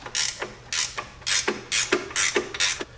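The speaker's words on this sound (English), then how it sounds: "Now I'm going to take this bolt right here and tighten it down." A ratchet tightens a 15 millimeter bolt on a Jeep 4.0 engine, six quick clicking strokes in a steady rhythm, close and clear with no talking.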